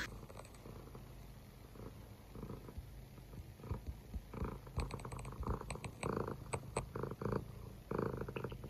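Minette the cat purrs steadily up close, a low rumbling texture with soft rustles and small bumps mixed in. No one speaks.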